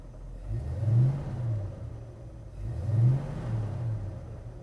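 A 1967 Ford Mustang engine running, a low rumbling idle swelling into two rising revs about two seconds apart, close by and alone.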